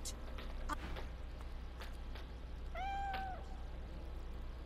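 A cat meows once in a video game, a clear rising-and-falling call in the middle, over a steady game background hum with a few faint clicks and thuds.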